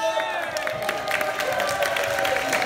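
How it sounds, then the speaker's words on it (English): A crowd in Tokyo gives a round of applause for a birthday celebration, with dense clapping mixed with cheering and whoops, steady and lively throughout, with voices audible underneath. "Let's give a big round of applause for the birthday celebration."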